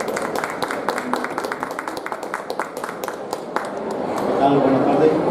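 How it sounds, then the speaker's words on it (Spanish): Applause from a conference audience at an electromechanical and renewable energy expo session, welcoming an engineer to the stage; steady crowd clapping with sharp individual claps throughout, swelling slightly louder toward the end. "Démosles un aplauso al ingeniero José Julián Prado Romero."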